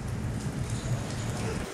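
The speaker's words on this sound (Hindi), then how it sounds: "अभी भी बारिश हो रही है" Steady rain falls outdoors in rural Odisha, a continuous soft hiss of drops on surfaces at moderate level with no talking over it.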